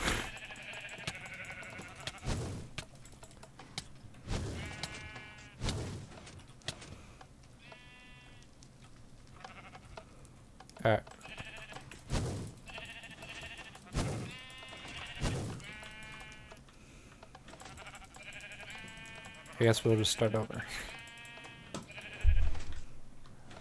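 Sheep in Minecraft bleat repeatedly in short, wavering calls spread across the stretch, some overlapping, mixed with sharp game clicks and thumps while a player speaks briefly.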